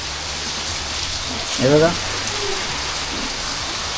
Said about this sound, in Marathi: पाऊस पण जबरदस्त पडतोय.